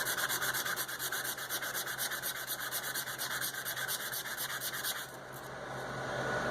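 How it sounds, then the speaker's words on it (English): Sandpaper rubbed back and forth across the edge of a forged steel piece at a blacksmith's forge, a close, continuous rasping scrape with a quick steady rhythm that eases off near the end. "So take out a piece of sandpaper, get that edge off the edge so you don't mess it up."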